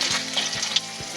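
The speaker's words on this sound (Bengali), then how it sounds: "তার জন্য প্রথমে তেলের মধ্যে 3টে শুকনো মরিচ ভেজে নেব, কাঁচা মরিচ আর কালো জিরা দেব" Dried red chillies and black cumin frying in hot oil for a radish greens dish, a steady close sizzle with a few soft clicks of stirring, no talk.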